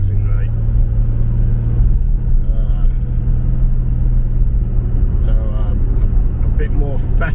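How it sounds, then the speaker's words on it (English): A car engine runs steadily with a poorly adjusted choke, giving a loud, continuous low rumble that lasts throughout the clip with no break. "And got a car started. That choke still isn't right."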